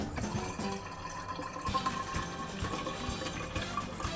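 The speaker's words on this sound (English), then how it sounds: "I need to fill up my water bottle" Water running from a Santevia glass water filter into a water bottle, a steady, even rush of liquid lasting several seconds, close and moderately quiet.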